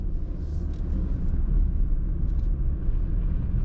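Steady low road rumble and engine hum inside a 2018 Alfa Romeo Stelvio TI AWD as it drives through corners, continuous and fairly loud with no talk.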